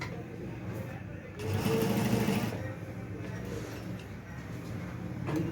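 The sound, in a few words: sewing machine stitching a kameez placket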